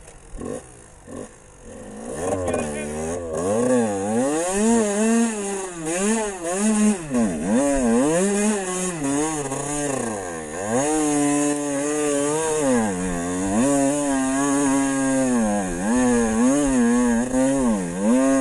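A Fantic 77cc motorcycle engine revs hard and repeatedly, its pitch sweeping up and down in rapid wavering cycles, loud and close and continuous with no talk.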